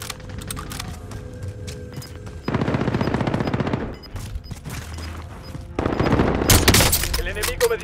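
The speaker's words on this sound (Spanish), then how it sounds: "El enemigo me dispara." Rapid machine gun fire in Call of Duty: Modern Warfare, two loud sustained bursts of fast shots separated by quieter scattered shots and background battle noise.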